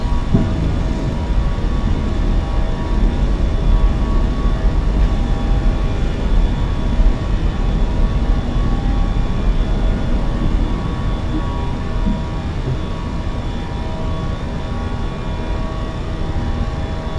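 Airbus A320 jet engines at takeoff in Microsoft Flight Simulator 2024, an American Airlines flight out of Dallas: a steady, loud, broadband roar with a faint tonal whine, holding constant throughout with no talking.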